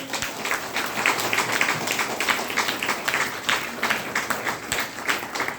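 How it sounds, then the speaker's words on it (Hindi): Clapping from a crowd at a health training session held in Bhagwanpur, a dense, steady patter of many hands lasting several seconds, fairly close and continuous with some background murmur. "एक जोरदार ताली होनी चाहिए।"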